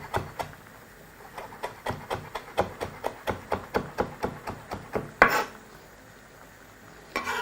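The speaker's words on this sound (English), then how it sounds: "Now we're also going to proceed to chop up our coriander." A knife chops coriander finely on a board: about sixteen quick, evenly spaced taps in a steady rhythm, close and clear, then a single louder knock before a short pause.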